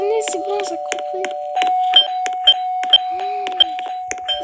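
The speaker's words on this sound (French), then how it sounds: "Arrête de sonner, c'est bon, j'ai compris." A doorbell chimes again and again at a steady pace while children talk and call out over it indoors.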